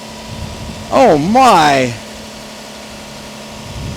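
A used car with a dirty, never-cleaned engine and a large battery idles on a salvage auction lot, giving a steady low hum throughout while a voice briefly exclaims over it.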